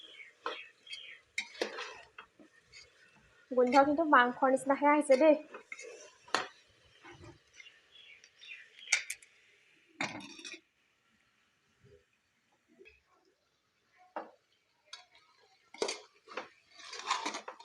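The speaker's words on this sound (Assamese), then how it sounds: "এইখিনি মই মাজে মাজে লৰাই আছোঁ।" Banana stem (kol posola) fries in a pan as a spatula stirs it, with clattering scrapes and clinks in bursts, a denser rattling stretch early on, then sparser taps; someone speaks briefly between strokes.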